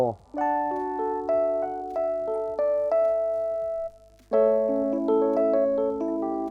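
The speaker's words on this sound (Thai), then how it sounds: "เสียงอิเล็กทริกเปียโนจะมีให้เลือกถึง 7 เสียงด้วยกันนะครับ" A mellow electric piano preset on a Roland GO:KEYS or GO:PIANO keyboard plays a gentle sequence of notes and chords with soft attacks and smooth sustain, a low hum faintly beneath.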